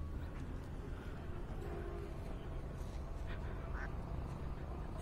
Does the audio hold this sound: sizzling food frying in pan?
no